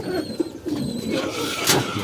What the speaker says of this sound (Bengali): এটা আমাদের কবুতর দেখেন